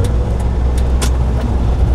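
Car interior during a driving-test lesson as the driver presses the accelerator and shifts into third gear: steady close engine and road rumble with a few brief clicks, no talk.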